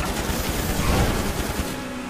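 Bursts of gunfire in GTA Online during a chaotic race, dense rapid shots merging into a steady loud barrage across the whole moment, no talking.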